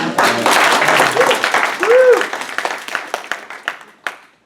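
A crowd applauds steadily, the clapping dense at first and then thinning into scattered claps before it fades out.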